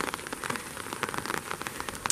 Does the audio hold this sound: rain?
yes